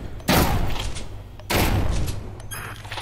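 Two pump shotgun blasts fired at targets in the VR zombie game Propagation VR, each a loud, close boom with a decaying tail, about a second apart.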